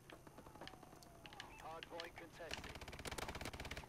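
Rapid automatic gunfire from a weapon in Call of Duty: Advanced Warfare, bursts picking up and growing denser toward the end, mixed with game effects and a voice talking over it.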